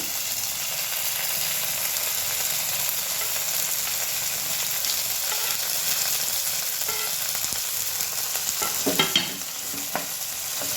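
Onion and tomato frying in a pan, a steady close sizzle with scraping stirs and a few sharp spatula clinks near the end, no voices.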